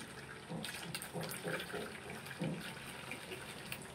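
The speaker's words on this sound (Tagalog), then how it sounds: "una ay kukuha tayo ng mainit na tubig" Hot water pours steadily from a tap into a container for bread making, a close, continuous splashing stream with small fluctuations and no talking.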